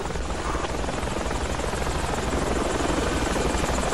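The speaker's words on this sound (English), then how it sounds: "As soon as this helicopter touches down, we're going to spawn on the squad leader." Military helicopter coming in to land in the game Project Reality, a loud, close, continuous rotor and engine roar with steady thumping blade chop filling the whole clip.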